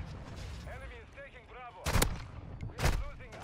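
Gunfire in a Call of Duty match, with two loud sharp shotgun blasts about a second apart cutting through game sounds and a voice talking underneath.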